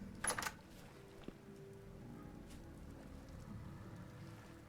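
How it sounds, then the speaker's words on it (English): Steady rain falls outside, a faint, even hiss that continues throughout, with a brief louder knock or rattle near the start. "it's definitely still raining, so I definitely can't go out"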